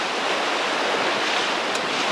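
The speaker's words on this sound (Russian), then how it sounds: "Море достаточно сегодня неспокойное." Rough sea waves break on the Crimean shore in a loud, constant roar of surf, with a dense wash of water and wind and no pauses.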